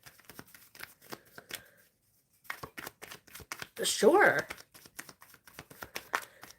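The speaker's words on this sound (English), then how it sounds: "Spirit, I'm shuffling for Witchy." Tarot cards being shuffled during a live card reading, a loud papery riffle burst in the middle with softer card handling around it, under near, steady talk.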